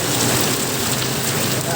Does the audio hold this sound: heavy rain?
yes